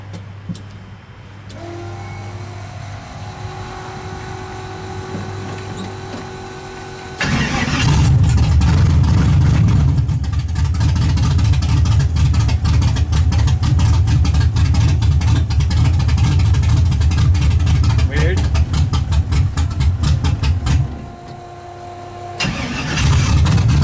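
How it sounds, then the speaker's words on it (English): A Chevy Nova engine cranks and catches, then runs roughly on half its cylinders with a loud, uneven, steady rumble for about fourteen seconds before cutting back to a quieter hum. "now we're gonna go ahead and try to fire it up and see if it fires"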